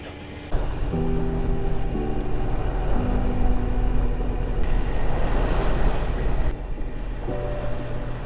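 A sailing boat's engine runs at sea in the Mozambique Channel near Mayotte, a steady low mechanical drone under waves and wind buffeting the microphone, with no talk.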